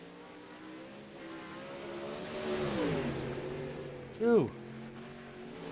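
Pro late model race cars on track, including the number 33, their engines droning and rising as the cars pass, then a sharp loud revving swoop near the end, with a brief voice exclaiming.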